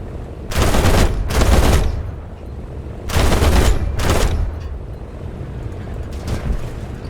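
Aircraft machine guns fire in the War Thunder combat game, loud rattling bursts in two pairs with a droning engine underneath between them.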